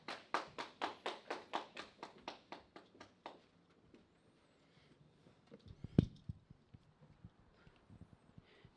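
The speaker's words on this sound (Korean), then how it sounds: "큰 박수로 맞이해 주시기 바랍니다." An audience at the opening ceremony of an academic conference claps in a quick, regular series of loud, distinct claps that thins out and fades, followed by a few scattered claps and a louder thump near the end.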